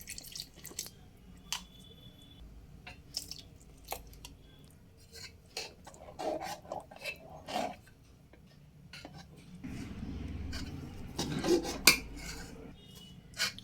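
A spoon stirs thick rice batter for papad in a pot on the stove over medium flame, making scattered close clinks and scrapes against the metal with soft wet squelches between them.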